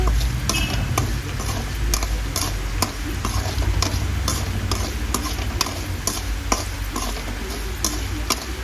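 Metal spoon stirring turmeric into garlic frying in a pan, with a steady oil sizzle and repeated scraping strokes at a close, even rhythm, no talking.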